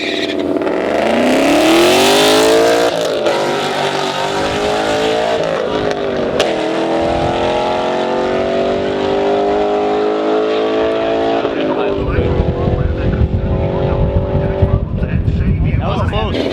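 A V8 Audi R8 racing on a rally stage, its engine screaming loudly through rising and falling gear changes with tires skidding on loose ground, while a voice talks over the roar.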